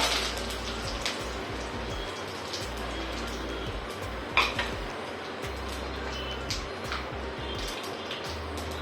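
Cumin and mustard seeds crackling in hot oil, a dense, steady popping and spattering like light rain, close by, with a single clink of metal partway through.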